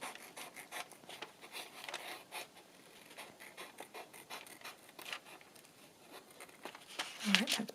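Junk mail paper is trimmed with scissors in soft, quiet rubbing and snipping strokes, a few brief cuts spread across the clip, with a faint crisp snip near the end.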